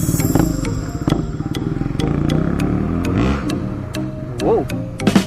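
A KTM 400cc motorcycle running close by, a loud rapid ticking, clattering engine beat holding steady, then surging briefly toward the end.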